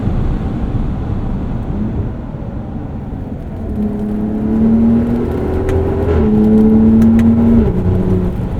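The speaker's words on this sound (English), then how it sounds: "Those barks between shifts are just awesome." A 2026 Ram RHO pickup with a Magnaflow performance exhaust pulls hard from inside the cab, its engine drone climbing and briefly dropping with each gear change, loud and steady with wind noise.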